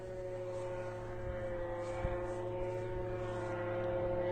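A steady droning engine hum from a military drone flying overhead near Kursk, like a small propeller aircraft or lawnmower, holds throughout and grows slightly louder toward the end, with no talking.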